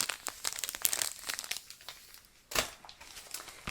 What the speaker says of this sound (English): So some extra folded up aluminum foil if I need to use it.